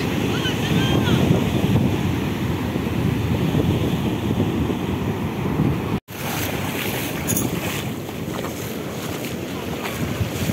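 Sea waves roar steadily and loudly on the Odisha coast near Puri, mixed with heavy wind buffeting the microphone and a brief cut partway through.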